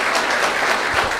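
A church congregation claps together in a dense, steady burst of applause, loud and close, with no voices over it.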